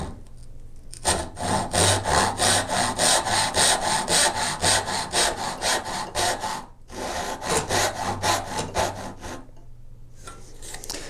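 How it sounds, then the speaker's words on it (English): A hand saw cuts straight down through wood to a baseline while making a dovetail marker, giving steady rhythmic rasping strokes close up, broken by a short pause midway before the strokes resume. "we are now just gonna cut straight down to our baseline"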